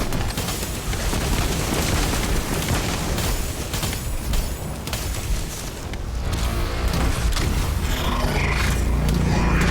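A fireball explosion in a video game bursts into a sustained, loud roaring blast that rumbles on for several seconds, dense and continuous, with no talk over it.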